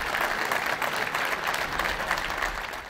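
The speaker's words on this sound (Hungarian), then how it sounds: "Körülbelül 90 fogoly fogadta taps közepette a pápát." About ninety prisoners at Naples' Poggio Reale prison applaud Pope Francis, a dense, steady burst of clapping from a crowd that fills the whole moment without letting up.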